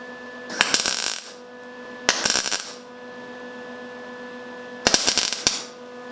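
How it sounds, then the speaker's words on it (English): Tack welding on a Honda S2000 quarter panel gives three short crackling, sizzling bursts spaced a couple of seconds apart, each over a steady electrical hum. "get the welder set up to do some tack welding here to get this to set in"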